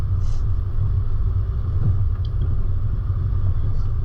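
A 4WD's engine labours steadily up a steep, eroded bush track at constant throttle, a continuous low rumble close by with no voices.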